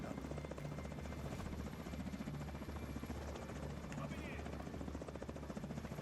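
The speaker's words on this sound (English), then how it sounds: "No, it's the helicopters" Helicopter rotors from The Division 2 video game thrum steadily throughout, a continuous loud whirring drone layered with game effects and voices talking over it.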